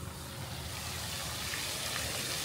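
A waterfall in a park pours steadily, giving a continuous broadband rush of falling water that sounds fairly close and stays even throughout, with no talking over it.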